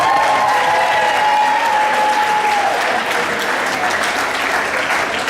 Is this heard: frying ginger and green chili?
no